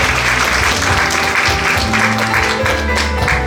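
An audience applauds at a regional education forum in Gyeongbuk, a dense, steady patter of many hands clapping at close range for several seconds with no talk over it.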